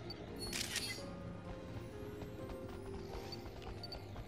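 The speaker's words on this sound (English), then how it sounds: "I hear footsteps." Footsteps in the video game New Pokemon Snap, faint rhythmic clip-clop steps repeating steadily amid quiet forest ambience, with a brief bright mechanical burst early on.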